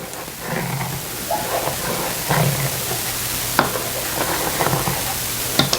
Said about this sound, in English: It's starting to simmer.